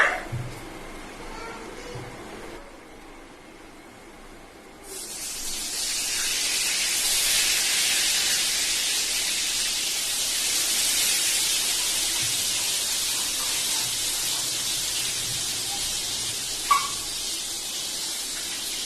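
Brinjal and potato frying in hot oil with black cumin, onion and green chilli, later joined by a hilsa fish head, giving a loud steady sizzling hiss that surges up after a quieter start and continues throughout.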